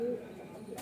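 A baby Sheetla highflyer pigeon gives a soft, low cooing close by, faint against a quiet background hum.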